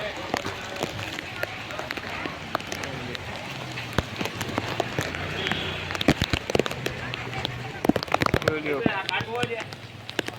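Very heavy monsoon rain pouring on a street in Jamnagar, Gujarat: a dense, constant roar with sharp splashes and drips close by, while someone talks over it throughout.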